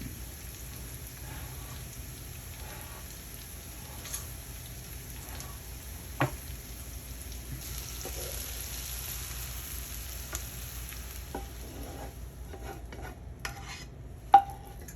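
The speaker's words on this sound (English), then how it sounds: "And we can add our beans. Mix that up a little bit." Baked beans are stirred in a pot over a soft, steady sizzle. Occasional spoon knocks and scrapes ring out against the pot, growing a little sharper toward the end.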